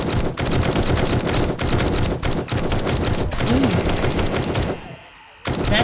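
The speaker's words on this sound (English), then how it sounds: "Did I just shoot my turret?" Rapid bursts of automatic gunfire from the player's weapon in the survival video game 7 Days To Die, loud and dense, firing almost continuously before cutting out briefly near the end, then resuming.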